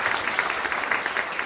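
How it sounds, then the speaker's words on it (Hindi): Audience applause at a devotional discourse, a brief, steady patter of many hands clapping at moderate distance, with no voices over it. "उनके लिए ताली बजा दीजिए"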